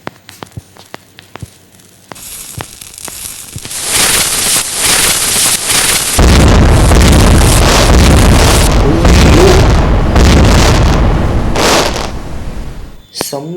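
A firecracker goes off in the Indian Bike Driving 3D game during a Diwali scene, a loud sustained crackling burst and roar that builds and fills several seconds, with a voice talking before it.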